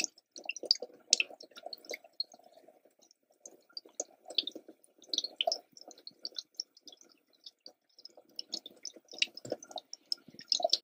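Sausage casings being washed in plain room-temperature water with a little unscented dish soap, heard close up as sparse, irregular wet drips, squelches and splashes with quiet gaps between them.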